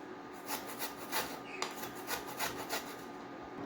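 Fresh ginger crushed and ground by hand makes a soft, rhythmic rasping rub, several strokes in a row, close and quiet with no talking.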